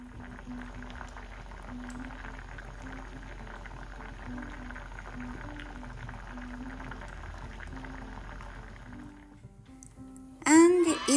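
Chestnuts simmering in sugar syrup in a pot on the stove, a quiet steady bubbling that runs throughout, ending in a brief louder burst of activity.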